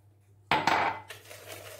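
A metal utensil knocks and scrapes against a pot while milk mixed with cornstarch is stirred, two sharp clinks followed by softer swishing, close and fairly quiet.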